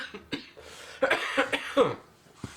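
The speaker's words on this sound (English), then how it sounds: "I'm going to be coughing a little bit." Several rough coughs in a row, close and fairly loud, with short pauses between bursts and a final small cough.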